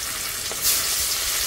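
Pangas fish frying in a pan, giving a steady close sizzle with a slight surge partway through and no talking.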